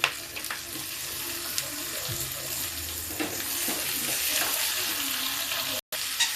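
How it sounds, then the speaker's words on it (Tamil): Tomato and coconut fry in a pan for chutney, a dense continuous sizzle close up with occasional stirring scrapes and clicks throughout, no talk. "இப்போ தக்காளியும் தேங்காயும் போட்டுக்கலாம்."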